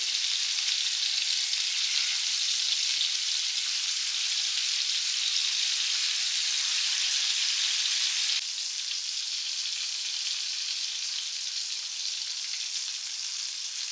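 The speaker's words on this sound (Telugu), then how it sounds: "ఇప్పుడు చికెన్ మనం వేసిన వెంటనే తిప్పకుండా ఒక 3 నిమిషాలు ఒక సైడ్ వేగాలండి" Chicken pieces for lemon pepper chicken fry in hot oil, giving a steady, loud, dense sizzle that runs unbroken and alone, easing slightly quieter partway through.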